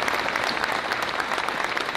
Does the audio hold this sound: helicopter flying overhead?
no